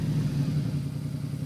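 A motorcycle engine in Ghost Recon Wildlands runs with a steady low, throbbing rumble, close and continuous for a brief moment.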